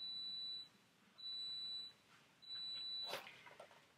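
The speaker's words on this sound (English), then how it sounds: "you don't have to beep for an hour for me to know that you finished your program" An appliance beeps three times in long, even tones with short gaps between as its program finishes, followed by a brief clatter and a faint voice.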